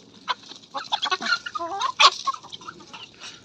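Several chickens cluck and squawk close by in uneven bursts, with one sharp louder cackle standing out.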